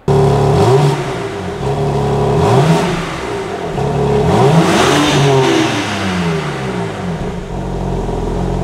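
A 2021 BMW M3/M4 with a valved exhaust in comfort mode, revving repeatedly in close, smooth rising and falling sweeps with a moderately loud, muted engine note and no talk.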